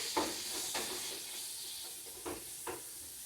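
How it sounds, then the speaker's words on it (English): Ground beef with garlic being stirred in a pan, with a steady background sizzle and a few soft scraping strokes of the spoon spaced through the stretch. "Now let's give that a good stir."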